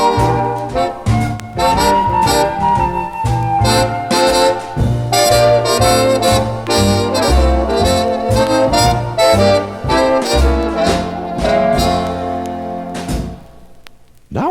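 Flute, an early bass violin and a lyre play together in a continuous melodic passage with plucked and bowed low notes under the flute line, loud and near, ending abruptly.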